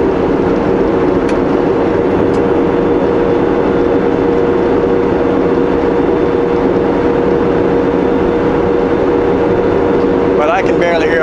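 A truck descends Kootenay Pass in winter with Jake brakes on full and its fan running, giving a loud, steady, close engine-brake roar and drone throughout, with a brief whistling sweep near the end.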